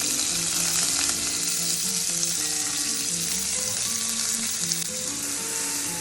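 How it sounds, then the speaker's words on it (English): Chopped onions and green chilies sizzle steadily in hot oil in a pan, a constant close hiss with faint crackles and occasional stirring clinks, with no talking. "When the oil is hot, just add the chopped onions and the chopped green chilies."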